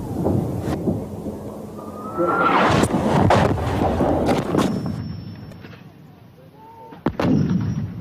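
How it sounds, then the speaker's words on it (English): British artillery guns fire back during shelling in the Falklands, loud booming blasts and sharp cracks coming in irregular bursts over a rumbling background, with some distant and some close. "That's the British firing back."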